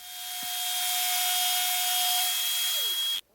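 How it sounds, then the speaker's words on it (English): A drill-mounted brush spins against wood, scouring off loose bark, dust and debris in one steady, loud whirring scrub that holds for about three seconds before cutting off abruptly. "Here I've got a drill-mounted brush, and it's just taking all the loose bits of wood, bark, dust, debris"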